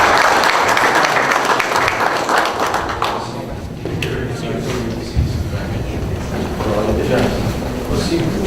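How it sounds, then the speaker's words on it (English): A round of applause fills a City of San Juan commission meeting for the first few seconds, then fades as a person begins speaking over the room's quieter background. "Once again, let's give them a round of applause."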